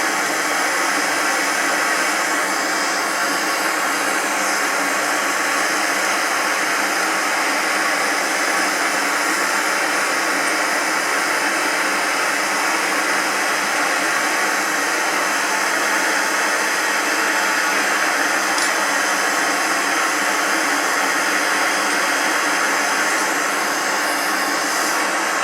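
A furnace heating gold in a crucible roars with a steady, loud blowing hiss, unchanging and alone for the whole stretch.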